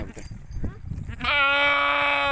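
A pure Gulabi goat on a farm gives one long, loud, wavering bleat close to the microphone, following some rustling and handling noise.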